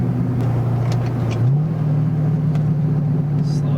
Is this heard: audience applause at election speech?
no